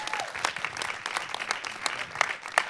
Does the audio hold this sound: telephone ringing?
no